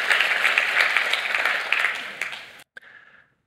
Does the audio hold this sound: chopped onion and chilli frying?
no